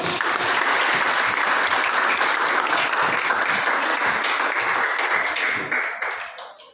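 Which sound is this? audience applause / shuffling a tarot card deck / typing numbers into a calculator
audience applause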